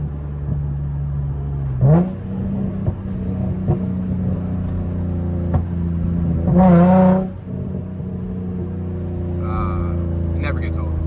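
A Nissan 350Z Nismo engine and exhaust rev in a few short bursts over a steady drone, with one longer rev mid-clip, heard up close as people talk over it.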